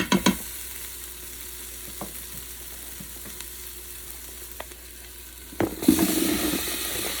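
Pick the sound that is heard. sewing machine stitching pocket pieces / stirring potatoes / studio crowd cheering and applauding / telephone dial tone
stirring potatoes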